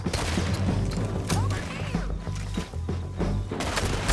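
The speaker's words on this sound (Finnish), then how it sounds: "Ai saakeli, jostain nyt ammuttu" Repeated gunshots and crashing booms in a Red Dead Redemption 2 firefight, a dense, loud barrage of cracks and thuds over a continuous game-score rumble, with no talk.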